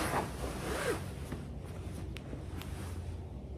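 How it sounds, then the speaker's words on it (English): A small zipper on a soft pullover gift is zipped, producing a few faint, short rasping strokes against a quiet room background. "little zipper."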